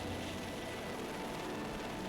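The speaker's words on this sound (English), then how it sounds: "A chopper ride with Blue Hawaiian Helicopter Tours gives the group a bird's eye view of the Big Island." A Blue Hawaiian tour helicopter flies over the Big Island, Hawaii, its engine and rotors making a steady, moderately faint broadband drone throughout with no talk.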